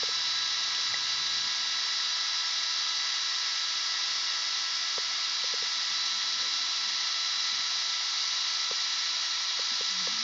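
A drill spins steadily to wrap vape coil wire around a core wire, giving a continuous high-pitched whine with a faint hiss, close and unbroken for the whole stretch, with a few small clicks.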